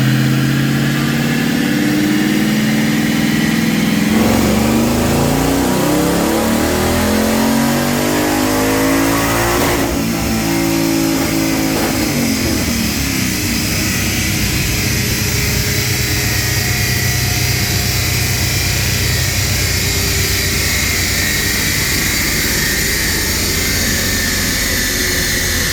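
A 2016 Roush Warrior 660 HP car on a dyno, running on 93 octane fuel: a loud, continuous engine roar that climbs steadily through a long high-rev pull, peaks, then drops and settles into a steady drone.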